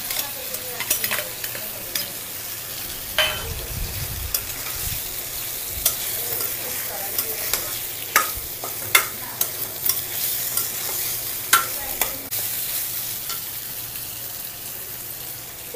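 Ground garam masala, a home-ground spice paste, is stirred and fried in a pan for a liver curry: a steady close sizzle broken by repeated scraping strokes of a spoon, with no talking.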